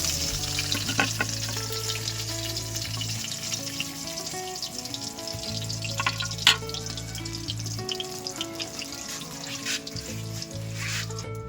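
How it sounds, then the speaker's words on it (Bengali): Eggplant slices fry in oil with a constant crackling sizzle, clinks and scraping stirs now and then, and a low hum running underneath. "আমার বাকি বেগুনগুলোও এই তেলে ভাজা হয়ে যাবে"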